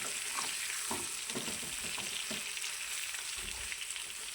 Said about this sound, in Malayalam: ഇളക്കി കൊടുക്കുക, ഇടയ്ക്കിടയ്ക്കൊന്ന് മറിച്ചിട്ട് കൊടുത്താൽ മതി കേട്ടോ.